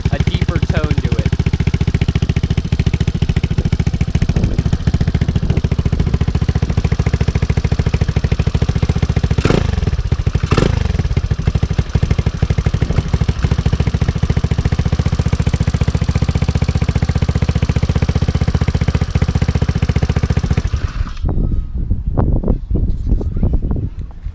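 A scooter fitted with a 171cc big bore kit and 28mm slide carb idles loudly and steadily up close with a deep, even drone, then cuts off near the end.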